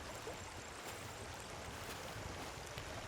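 River water flowing steadily in the Rust video game, a continuous broadband rush with no pauses or voices, at moderate loudness throughout.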